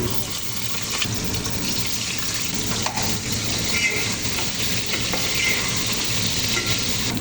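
Eggplant and potato slices frying in plenty of oil in a home kitchen, a steady close sizzle with occasional stirring clinks, no talk.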